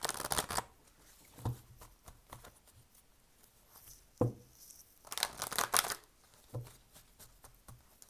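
Tarot cards being shuffled by hand in quick papery bursts of riffling and sliding, with short quiet pauses between the shuffles.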